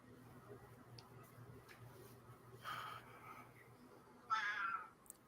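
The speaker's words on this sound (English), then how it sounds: "I hear a cat and it's making me laugh." A cat meows twice, faint and somewhat distant, the second call louder and more drawn out, over a quiet hum.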